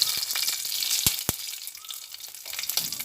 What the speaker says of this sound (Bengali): এরপরে সব নিয়ে একসঙ্গে ভেজে নিচ্ছি